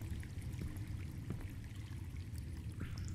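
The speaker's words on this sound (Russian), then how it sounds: "Где вода течет?" Water pours and flows steadily at low level inside an abandoned hospital in the video game Deadly Broadcast, a soft continuous rushing stream with faint scattered drips.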